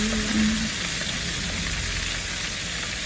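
Garlic pepper shrimp frying in hot oil, a steady close sizzle and crackle running unbroken throughout, no speech over it.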